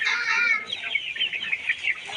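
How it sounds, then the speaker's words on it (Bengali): A 70-day-old Kazi high-sex brown chicken clucks in a steady run of close, fairly loud calls lasting a couple of seconds, with no talk over it. "যে মুরগিটা দেখতেছেন এই মুরগিটার বয়স হচ্ছে 70 দিন। এর জাত কাজী হাইসেক্স ব্রাউন।"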